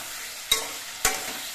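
Two quick spatula scrapes about half a second apart as turmeric and chili powder spices are stirred in a pan with a splash of water, over a faint, steady low sizzle.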